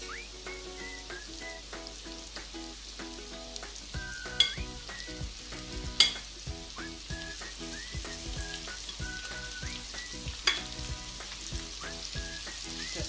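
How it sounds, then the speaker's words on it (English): Shrimp sizzle in garlic butter with a busy, crackling fry, punctuated by a few sharp pops and clatters as they are spread around, while a faint tonal backdrop plays underneath. "So I'm just going to start now by placing in my shrimp."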